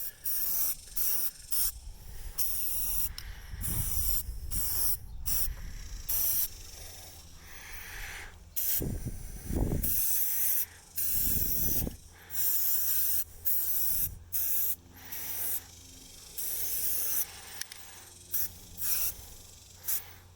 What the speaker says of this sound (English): I'm going to come up here and paint this copper